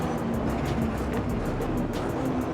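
A Nissan GT-R race car on a track, heard as a steady, loud, close engine roar that holds at an even level throughout with no pauses.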